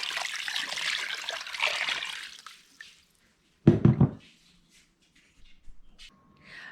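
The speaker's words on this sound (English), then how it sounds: "I've already got 16 cups of water in there, and I'm just going to add more cups because I want a lot of broth" Water splashes and trickles into a large pot already holding bone broth ingredients, a rushing pour fading out, then a short sloshing burst and a few scattered drips with quiet gaps between.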